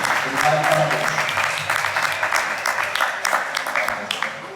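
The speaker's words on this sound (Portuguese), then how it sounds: "Uma salva de palmas para vocês" An audience applauds after a late Friday-night special lecture on child sexual abuse, a dense, steady clapping that stays loud throughout and tapers slightly toward the end, with a voice faintly audible underneath.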